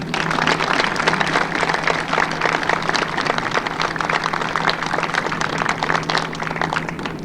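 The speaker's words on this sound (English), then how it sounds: "Please join me in a round of applause for our chamber and the dinner organizers" A banquet crowd at a dinner event applauds the local chamber and the dinner organizers, with steady, dense clapping from many hands that stays fairly loud throughout.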